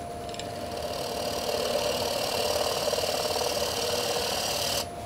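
A wood lathe spins steadily with a continuous motor hum and whir that rises slightly in level as the speed comes up, then drops abruptly near the end.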